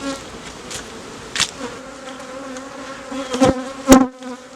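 Honey bees buzzing around an open beehive during an inspection, a soft steady hum with louder individual bees darting close past the microphone several times.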